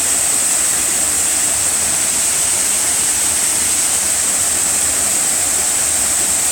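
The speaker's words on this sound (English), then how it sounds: "you get some impression of the waterfalls" Twin waterfall on a cloudy day, a steady, broadband rush of falling water that stays constant and full from start to finish with no other sounds.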